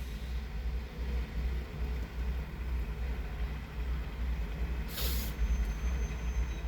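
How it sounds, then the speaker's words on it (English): A freight train stopping at Coos Bay, a low rumbling drone of railcars with a sudden loud hiss of air brakes releasing partway through, no voices. "The train's stopping."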